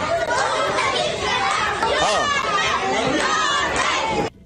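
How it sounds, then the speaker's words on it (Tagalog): A crowd of Manila residents shouts together in a dense, continuous roar of voices and overlapping cries, loud and unbroken until it cuts off abruptly near the end. "ayan po yung buong video na kung saan talagang mga sigawan ng mga taga Maynila"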